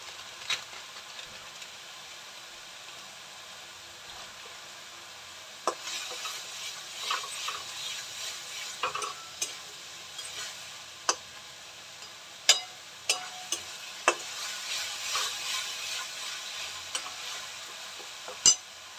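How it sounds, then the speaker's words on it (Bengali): Cumin powder gets stirred into a pan of frying prawn malai curry, a faint soft sizzle with scattered spoon scrapes and clicks, irregular and close, no voices. "এবার দেবো একটু জিরে গুঁড়ো"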